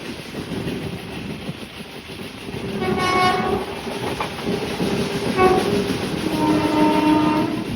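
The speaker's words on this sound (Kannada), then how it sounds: "ನೋಡಿ ಸ್ಟೇಷನಲ್ಲಿ ಯಾವ ರೀತಿ ಸ್ಪೀಡ್ ಹೋಗ್ತಾ ಇದೆ ಇಲ್ಲಿ ಕೂಡ." The 12786 Mysore–Kacheguda superfast express speeds through a station without stopping, heard from on board: a loud, continuous rolling rumble and rail clatter with horn tones sounding over it.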